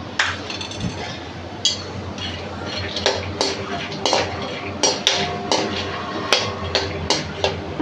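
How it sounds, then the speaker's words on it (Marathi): Peanuts are stirred and roasted in a pan, with repeated clinking and scraping of a spoon against the metal and a steady rattle of the nuts, close and fairly loud. "आता हे पहिल्यांदा मी शेंगदाणे भाजून घेते."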